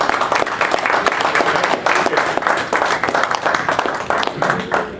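A room at a community group meeting breaks into a round of applause, brisk continuous clapping from many hands, loud and close, steady for several seconds with no talk over it.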